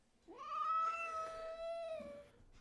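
One long, grumbling meow from a nearby cat, strained and whiny, stretching nearly two seconds before trailing off in a quiet room.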